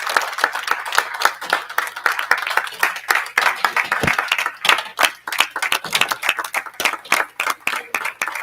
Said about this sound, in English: Please join me in giving an amazing and supportive round of applause to your IBM Master's